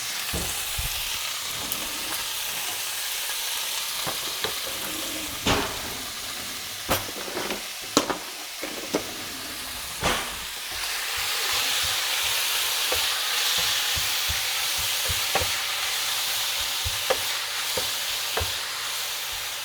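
Meat for tacos sears in a hot pan, giving a continuous frying hiss. Sharp clicks and knocks of a utensil against the pan break through now and then, and the sizzle swells louder in the second half.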